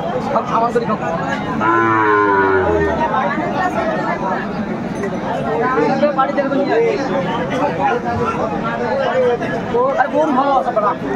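A dairy cow moos loudly and close, a drawn-out low call, amid a busy crowd of voices chattering all around at a cattle market in Dinajpur, Bangladesh.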